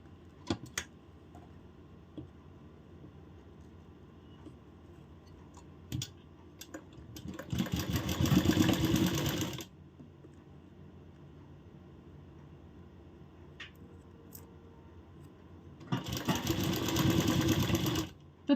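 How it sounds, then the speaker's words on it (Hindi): Sewing machine stitching fabric for a blouse belt, running in two loud bursts of rapid needle clatter, each about two seconds, separated by quiet pauses with faint handling clicks. "सबसे पहले यहाँ पे इस पर सिलाई लगानी है"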